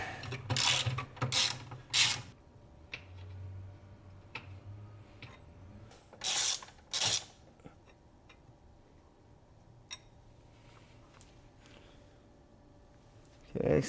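Ratchet wrench loosening strut brace nuts in the engine bay of a Toyota Supra, quick clicking bursts in the first few seconds and again around six to seven seconds, then quiet.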